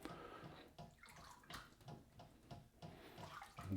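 Water squeezed out of a sausage casing by hand during homemade saucisse de choux prep, a soft wet squelching and sloshing with irregular splashy bursts, close and fairly quiet, no talking.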